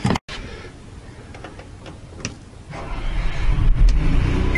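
An Onan 4000 generator engine catches after a brief opening burst and settles into a steady, close mechanical running rumble that grows fuller and louder over the final seconds, with light ticking and rattling on top.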